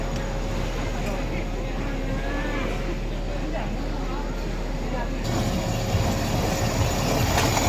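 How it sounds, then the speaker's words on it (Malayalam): A children's amusement ride train arrives with a continuous low rumble and rolling mechanical noise, steady and fairly loud throughout, with people talking over it. "നമ്മുടെ നേരിട്ടിങ്ങനെ ട്രെയിൻ വന്നിട്ടുണ്ട്"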